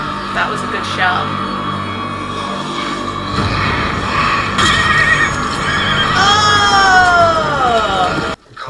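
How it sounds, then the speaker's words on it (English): A horse in The Walking Dead neighs loudly and repeatedly, high whinnies rising and falling, with hooves clip-clopping and people talking in the background. "Oh, a horse."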